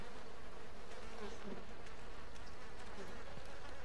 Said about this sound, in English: them fucking bee noises got me